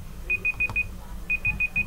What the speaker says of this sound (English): that's the timer if you're wondering